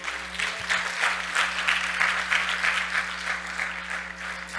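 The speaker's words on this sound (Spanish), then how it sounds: "Un aplauso al Señor." A congregation in a church service claps in praise, a moderately loud wash of many hands with a pulsing rhythm over a steady low hum of sound equipment, and no voices over it.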